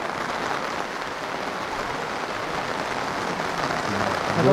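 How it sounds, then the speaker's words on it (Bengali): Rain falling steadily at a car campsite near a dam in Odisha during a storm, a dense, even wash of patter that swells slightly at the end, with no voices. "বৃষ্টি শুরু হয়ে গেছে"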